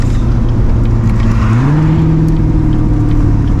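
A Chevrolet Corvette C8 engine pulls at light quarter throttle, a loud, close, steady exhaust drone that rises in pitch partway through as revs climb, then holds a deeper sustained hum.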